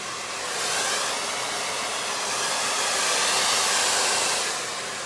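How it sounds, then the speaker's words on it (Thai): A hair dryer blows steadily on freshly washed hair, a loud, close, continuous airy roar that swells slightly and then eases toward the end, with no talking over it. "ขออนุญาตเป่าแป๊บนึงนะเสียงดังนิดนึงนะครับขอเป่า"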